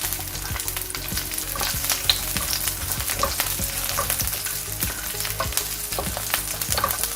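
Chopped onions sauté in oil in a pan for a Tamil vallarai sambal, giving a steady, close sizzle and crackle with occasional stirring scrapes throughout, and no talking.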